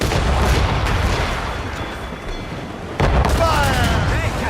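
Broadside cannon fire from a sailing warship in Assassin's Creed Rogue: a continuous rumbling barrage with a sharp loud boom near the end, set against ocean noise and shouting crew voices.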